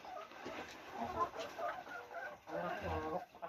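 About fifty laying hens near the end of their laying life cluck softly in a Thai egg-farm setting, low murmuring clucks mixed with quiet background sound and some nearby talk.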